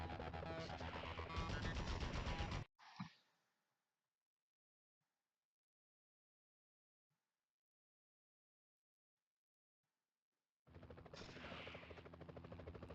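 Police gunfire in the game Spider-Man 2000 during a chase, a dense loud burst of rapid shots lasting a couple of seconds, then a single crack, a long silence, and another loud stretch of shooting.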